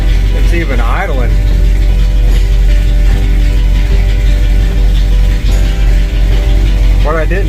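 A 1967 Ford F250 Highboy V8 idling steadily on a freshly installed carburetor, a continuous low rumble with a fast mechanical ticking running through it, close by, while someone talks over it at the start and end.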